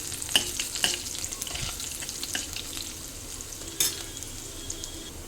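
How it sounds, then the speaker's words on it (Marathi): Garlic sizzles in hot oil in a pan for a dal methi bhaji, a constant frying crackle broken by a few sharp scraping stirs, with no voices. "हळद आपण नंतर घालायची आहे नाही तर मग तो लसूण काळा होत जातो थोडासा परतून घेऊ म्हणजे थोडा त्याला लालसर करूया"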